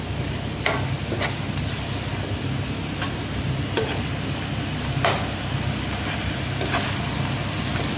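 Rice pilaf cooks on a stovetop with a steady, even sizzle and bubbling hiss. A few faint clicks or taps sound now and then.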